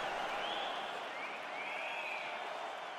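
Sustained crowd applause and cheering in an arena during a UFC 4 video game fight, dense and continuous with no pauses.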